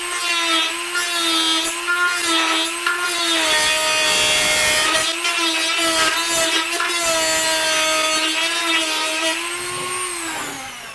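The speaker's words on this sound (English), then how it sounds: "Now you see why a Dremel tool is so valuable." A Dremel rotary tool trims the corner of an ammo box by the handle attachment, giving a loud, close, continuous high-pitched whine with grinding and rubbing texture as the pitch shifts slightly under load.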